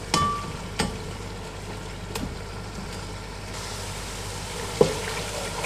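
Cumin and spices mashed with a masher and roasted in a pan for a desi curry, giving a soft, steady sizzle with a few sharp clacks of the masher scattered through.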